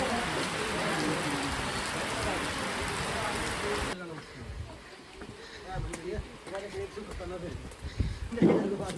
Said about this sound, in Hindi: बारिश हो रही है हल्की हल्की।